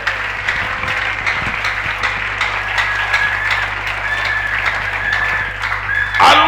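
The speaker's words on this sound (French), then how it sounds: "Acclame pour Jésus." A church congregation applauds loudly and continuously for Jesus, a dense, close wash of clapping with cheering voices mixed in, swelling slightly at the end.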